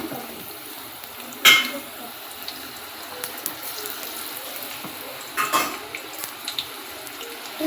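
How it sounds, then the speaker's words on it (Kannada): Bajji fritters in soda-lightened batter frying in hot oil over a high flame give a steady broadband sizzle, with a couple of sharper clinks and splashes of utensils near the pan. "ಈ ರೀತಿ ಹೈ ಫ್ಲೇಮ್ನಲ್ಲಿ ಫ್ರೈ ಮಾಡ್ಕೊಳ್ಳಿ."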